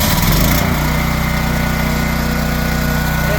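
A Champion dual fuel generator on regular gasoline with full choke starts with a loud burst and then settles into a steady, close, continuous engine drone with no talk.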